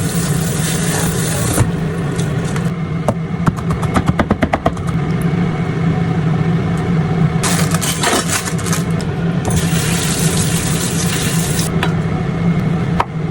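Cold tap water runs steadily as a plant cutting is prepared at home, a loud continuous rushing and hiss with a few clattering splashes and knocks partway through.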